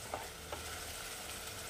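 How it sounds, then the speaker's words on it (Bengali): Chicken pieces sauté in a hot pan for tehari, a soft steady sizzle with a couple of faint scraping stirs, quiet and close. "এবার মাংসটাকে আমি ভালো করে কষিয়ে নেব"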